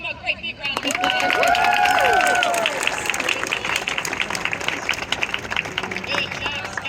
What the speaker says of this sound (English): Give him a great big round of applause.